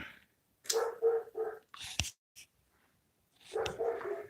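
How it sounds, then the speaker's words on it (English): A dog barks in several bursts, a cluster of sharp barks followed by pauses and another round, fairly close and alone. "Oh, I hear my dog's going off."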